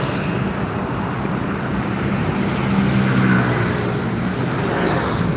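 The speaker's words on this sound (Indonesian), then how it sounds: "Wih, truk molennya ngebut guys." A concrete mixer truck speeds past on a road, a loud, steady engine roar with traffic noise that swells slightly toward the middle, no voices.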